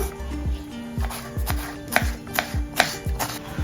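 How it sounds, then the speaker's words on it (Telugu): A knife chops tomato on a cutting board in a steady run of about eight crisp, close thuds, each followed by a short scraping ring, with no voices. "ఇప్పుడు టమాటా కట్ చేస్తున్నాను."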